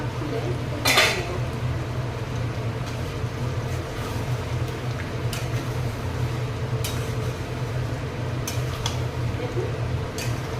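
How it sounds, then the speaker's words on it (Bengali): A pot lid comes off a pan of chicken braising on the stove with a short metallic clatter near the start, followed by a few lighter clinks over a steady sizzle and hum of cooking. "এবার আমি ঢাকনা খুলে দেবো।"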